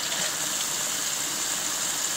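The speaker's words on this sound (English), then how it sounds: "Let me stop the water from running." Water runs steadily from a kitchen tap while raw chicken feet are washed, a continuous close hiss and splash with no speech.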